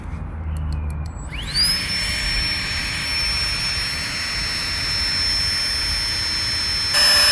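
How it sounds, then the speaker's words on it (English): A Flextail electric pump starts up and inflates a Thermarest sleeping mat inside a one-man tent, its whine rising quickly to a loud, steady, high-pitched drone that holds for several seconds close by. "Right, we're using the thermal rest bed tonight. I'm going to blow it up with flex tail pump."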